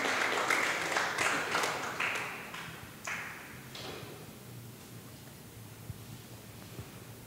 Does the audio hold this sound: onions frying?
no